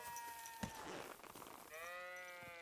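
Sheep bleat in the medieval countryside of the video game Kingdom Come: Deliverance II, giving a few quavering calls close by over a faint ambient background.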